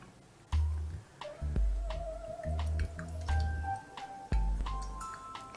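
Water poured drop by drop over coffee grounds, a series of distinct close drips and ticks with irregular spacing, heard alone without talk.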